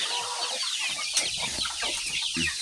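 Many chickens cluck steadily on a chicken farm, a dense, continuous flock chatter of overlapping clucks with occasional sharper calls, fairly close and constant throughout.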